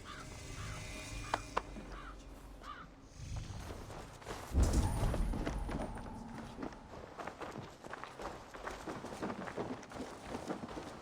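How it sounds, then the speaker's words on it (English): Horse hooves pound along at a gallop in Assassin's Creed Valhalla, a quick steady rhythm of footfalls with a heavier thudding surge midway, mixed with game ambience and a few bird caws. "Basim, Eivor, to horse!"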